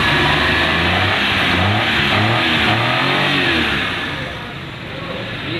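A 2016 Suzuki Mehran car engine revs steadily under light throttle, a continuous loud mid-pitched drone that eases slightly toward the end, with no talk over it.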